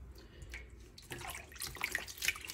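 Tap water runs into a sink close by, starting as a soft trickle and turning into a louder, turbulent splashing stream with a few bright drip-like splashes, and no one speaks.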